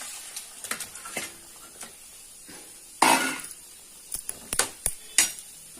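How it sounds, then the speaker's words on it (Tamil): Boiled chicken tipped into a pan of masala: a single loud, close splat and rustle midway, with scattered spoon clinks and pan knocks before and after. "இப்போ நம்ம வேக வச்ச சிக்கனை இதில் போட்டுடலாம்."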